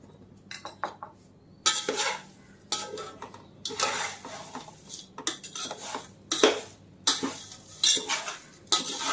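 Thin flattened rice chivda being stirred in a pan, with repeated scraping and clinking of a metal spoon against the pan in uneven bursts, close and clear.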